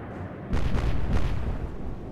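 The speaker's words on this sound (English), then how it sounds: "Explosions." Naval gunfire explosions in the Atlantic Fleet warship game, a heavy booming blast that breaks out suddenly and rolls on as a long rumbling roar with a second swell, loud and without talk.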